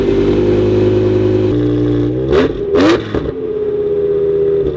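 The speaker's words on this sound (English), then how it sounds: "the car sounds like slightly throatier, but not far from what an E46 sounds like" A BMW E46 M3 with a swapped V10 engine idles with a steady burble and then blips through two sharp, loud revs before settling back to idle, with no talking.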